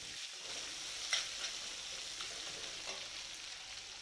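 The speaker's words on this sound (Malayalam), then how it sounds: "വളരെ സ്ലൈസായിട്ട് സവാള ചേർത്ത് നല്ലതുപോലെ വഴറ്റിയെടുക്കണം." Thinly sliced onions sautéing in a pan while being stirred until brown: a faint, steady sizzle with a few soft stirring clicks, no voices.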